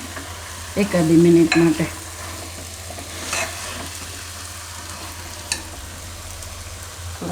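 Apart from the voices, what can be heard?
stirring dal and bottle gourd frying in masala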